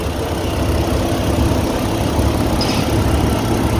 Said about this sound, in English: Vehicle's running, super quiet. Idle's perfect.